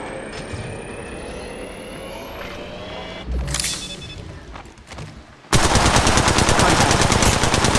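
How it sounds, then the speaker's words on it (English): Gunfire in Apex Legends Mobile: a steady mechanical hum gives way to a loud, sustained burst of rapid automatic fire that pounds on continuously to the end, close and dominant. "Contact. Opening fire."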